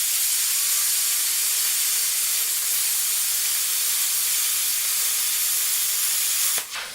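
Steady loud hiss of a metal cutter slicing through steel on a welding cart build, running continuously for several seconds before cutting off abruptly near the end, with no talking.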